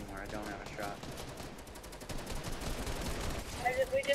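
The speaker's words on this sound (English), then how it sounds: "Yep, he's shooting at me" Automatic gunfire in a fast online shooter game, rapid bursts of shots crackling under excited player voice chat.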